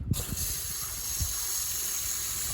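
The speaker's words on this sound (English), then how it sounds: "we've got just a garden hose, and I'm just going to go" A garden hose sprays water into an air filter at an outdoor sink, a steady close hissing gush with faint rattling and knocking underneath.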